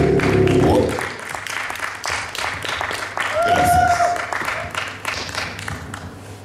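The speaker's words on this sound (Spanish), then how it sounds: "Un gran aplauso para el gran poeta Kiko" An audience applauds a poet with steady, dense clapping throughout, while a voice speaks briefly over it.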